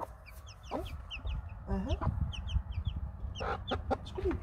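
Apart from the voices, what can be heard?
hen clucking with her chicks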